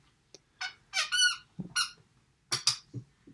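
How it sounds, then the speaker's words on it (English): A dog chews a rubber squeaky toy beside a computer indoors, sending out a quick series of sharp, high squeaks, some short and some drawn out, in an irregular rhythm against a quiet room. "That's an externality of my dog bringing in her squeaky toy and squeaking it near the computer."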